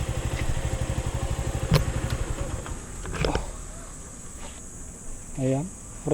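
A Suzuki Gixxer 155 Fi motorcycle engine, started after a week unused, idles close by with a steady, rhythmic putter, then quiets down as people talk nearby.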